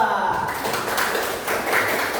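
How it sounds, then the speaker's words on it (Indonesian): A classroom of students clapping for a presenting group, a steady dense patter of hands lasting a couple of seconds, moderately close and filling the room. "tepuk tangan untuk kelompok 2"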